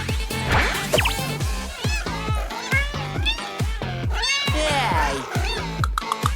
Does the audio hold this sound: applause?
no